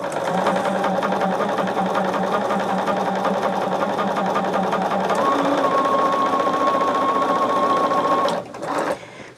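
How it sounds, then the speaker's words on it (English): A sewing machine runs continuously while chain stitching cotton quilt pieces, a loud, even mechanical whir that shifts pitch midway and stops abruptly near the end. "So what we will do is just chain stitch all of these at one time so we can get the 6 done"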